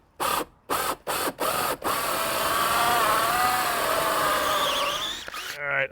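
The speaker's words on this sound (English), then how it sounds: "we've got to drill the downspout hole" A power drill bores a downspout hole through a roof gutter on a seaside Victorian cottage, starting with several short, loud bursts and then running steadily before stopping.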